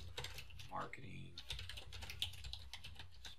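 Rapid keystrokes on a computer keyboard while typing a paragraph into a WordPress post, a steady close-up clatter of key taps running throughout with a voice briefly audible underneath.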